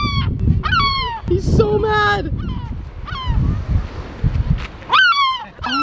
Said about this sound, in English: this one seagull will not leave us alone